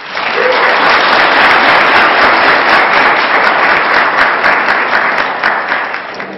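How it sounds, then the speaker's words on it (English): Loud, sustained applause from the audience at a college state senate debate, a dense continuous wash of clapping that fills the whole stretch and tapers slightly at the end. "it'll probably go a little faster if y'all don't clap after everything"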